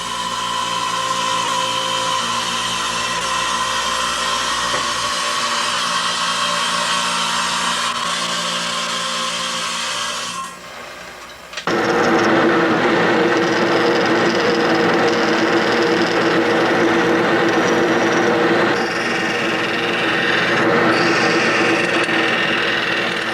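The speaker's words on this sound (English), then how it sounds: "The next process, the next step, is to go ahead and trim out the shell." A power tool whines steadily while trimming out a shell, a continuous loud motor tone that dips briefly, then resumes harsher and louder for the rest of the passage, with no talk.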